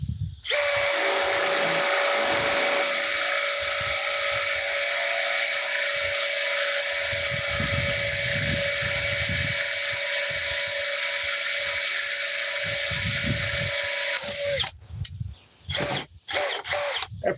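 A brushless Milwaukee power tool whines at a loud, high, steady pitch for about fourteen seconds, then cuts off, leaving a few short clicks and knocks.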